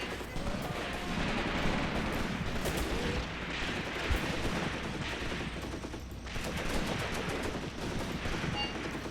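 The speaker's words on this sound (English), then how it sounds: "Incoming artillery." Incoming artillery fire rumbles continuously in Graviteam Tactics: Mius Front, a World War II tank battle, with booming impacts and crackling gunfire layered in a loud, dense barrage.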